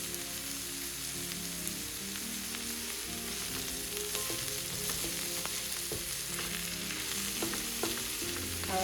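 Lacinato kale sautés in a pan with a continuous close frying sizzle, scattered crackles and pops, and occasional stirring clinks throughout.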